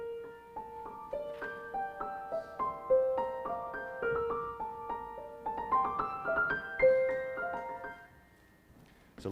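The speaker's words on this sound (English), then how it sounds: "a sort of pointillistic, ethereal piano melody in the strange and asymmetrical meter of 7 that sounds like this." Ethereal, pointillistic piano melody in an asymmetrical 7 meter by composer James Lee, sparse single notes ringing out and overlapping in irregular groupings, moderately quiet, with no talking over it.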